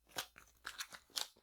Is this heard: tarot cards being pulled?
yes